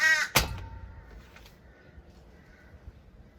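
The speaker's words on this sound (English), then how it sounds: "I have trouble with the crows here." A crow gives one sharp, loud caw at the start, then faint distant calls over quiet outdoor background.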